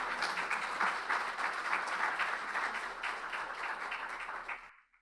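A live audience claps and applauds loudly for several seconds. The dense clapping holds steady, then fades out quickly at the end.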